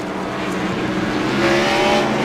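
Race cars in the iRacing sim at Watkins Glen surge back onto the throttle at a restart, a dense, steady engine roar that swells louder toward the end with no talk over it.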